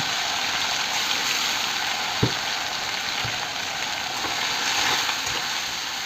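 Fried potatoes and spice paste sautéing in a pan give a steady, close sizzle with a faint stir or scrape now and then, and no voices.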